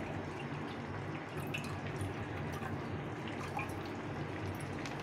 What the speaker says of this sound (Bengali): প্রথমে দুধটাকে ঢেলে দিলাম।